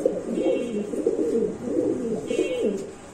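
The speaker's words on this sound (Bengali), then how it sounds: "আমরা আরেক জোড়া কবুতর দেখাচ্ছি আপনাদের" Domestic pigeons, including a ringed grizzle pair, coo in repeated low throaty rolls close by, a steady series of bubbling calls with no talk over them.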